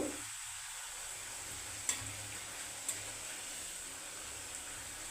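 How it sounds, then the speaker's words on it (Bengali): Sweet potato chips frying in oil give an even, continuous hiss that holds level throughout, with two sharp ticks from the pan partway through. "একটু কড়কড়ে করে ভেজে নিলে খেতেও ভালো লাগবে চায়ের সাথে"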